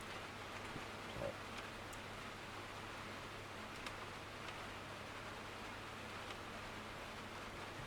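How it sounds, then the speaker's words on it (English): Steady rain in the Derail Valley train game, a faint even hiss of drops with a low constant hum underneath and a few soft ticks, with no voices. "I apologise if the rain is overpowering my voice."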